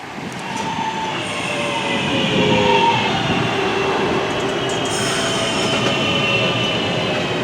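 A Northern Class 323 electric train arriving at Congleton station, a loud, steady rumble of wheels with faint squeals and rail hiss as it rolls close past the platform, with no talking.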